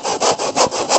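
A hand saw cuts through wood being carved into a Balinese barong mask. About five rhythmic back-and-forth strokes rasp loudly and close with no voices.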